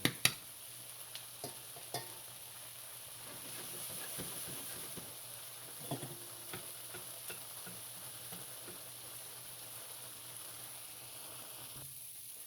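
Noodles being stirred in a pot while cooking goulash, giving soft scraping and faint clicking over a steady background hiss, with a few sharper knocks near the start.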